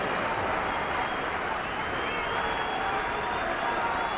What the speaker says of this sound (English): it's a slow hand clap now, directed at the home team